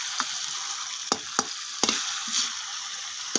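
Masala for pav bhaji sizzles in a hot pan with a steady, close hiss. Sharp spatula clacks and scrapes break in every so often as it is stirred.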